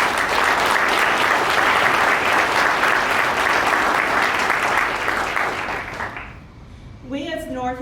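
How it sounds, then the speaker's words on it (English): Sustained applause from a large crowd at a college award announcement, loud and even for several seconds, then tapering off as a voice begins speaking near the end. "So give yourself a round of applause."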